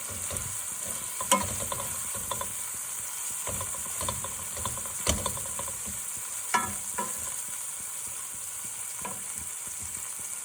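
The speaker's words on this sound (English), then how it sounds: "and 1 egg, and some olive oil, and some white wine. And so we'll just get this mixed around a little." Egg, olive oil and white wine stirred in a hot sizzling pan, a steady close frying hiss with occasional scraping clinks of a utensil against the pan.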